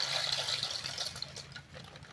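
Pasta dropped into a pot of boiling water on a home stove, a steady close bubbling and rushing of water with no voices.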